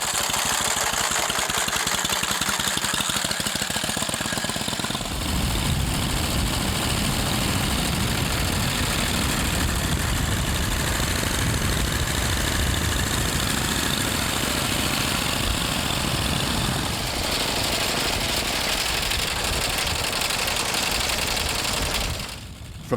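A 1918 Pope motorcycle engine runs loud and close, a rapid, uneven popping chug with a steady mechanical drone, holding throughout before cutting off sharply at the end.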